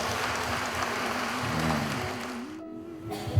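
Guests applaud a newly married couple at a Philippine wedding reception, steady dense clapping over a low hum and a sustained musical tone, fairly close and continuous throughout.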